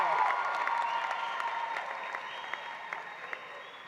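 A crowd at the KIPP Atlanta Collegiate High School 2019 graduation ceremony applauds a graduating student, a dense wash of clapping from many hands that slowly tapers off, with a few sharper individual claps near the end.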